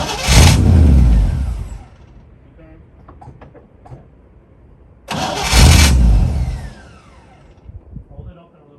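A 1957 Chevrolet Bel Air, off the road for over twenty years, cranks and fires in two loud bursts that rev briefly and die away, with quieter mechanical clicks and people talking between attempts.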